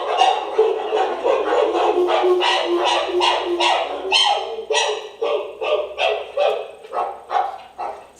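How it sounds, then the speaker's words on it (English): Excited chimpanzee food barks at a sanctuary, a rapid series of short, sharp, loud calls in irregular bursts, close by and alone, the later barks spaced more widely. "So that's a food bark there"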